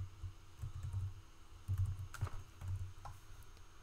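Keys on a computer keyboard are tapped in quick irregular bursts, soft close clicks and thumps continuing throughout with no talking.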